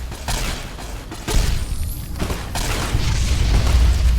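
Heavy weapon fire in Fallout New Vegas, a booming blast at about 1.3 s followed by a sustained rumbling roar with thuds and crackles, loud and close.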